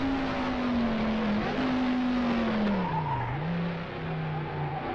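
Onboard a 1967 BMW Lola Formula 2 race car at the Nürburgring, a loud engine holds a steady high drone, with revs dipping and climbing through a bend before settling again.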